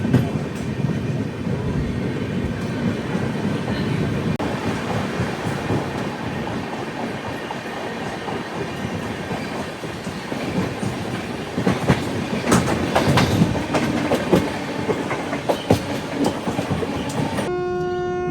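The Madurai–Chandigarh Superfast Express rolls along the rails with a loud, continuous rumble and rhythmic clatter of wheels over joints, and a horn blast sounds near the end.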